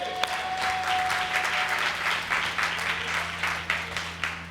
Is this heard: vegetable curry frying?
no